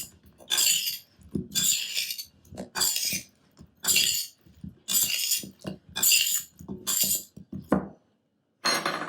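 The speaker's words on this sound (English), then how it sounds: "And then kind of mix it up and make sure they all get coated." Spicy steak fries drizzled with oil are tossed and stirred to coat them, giving repeated bursts of clinking and scraping against a bowl with brief pauses between, fairly close and with no talking.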